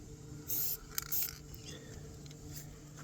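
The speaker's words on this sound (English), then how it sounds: "I got the spray on there" Spray can misting onto a mini bike build in a workshop: two short hissing bursts close by, then a few fainter brief sprays, over quiet low background hum with no talking.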